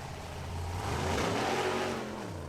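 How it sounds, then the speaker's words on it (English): A formula offroad car engine revs hard during an Icelandic competition round at Egilsstadir, a loud, sustained roar that swells and then eases over a couple of seconds, heard alone. "Now this is Fjölnir Guðmundsson driving Eva"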